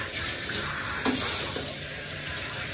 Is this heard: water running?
yes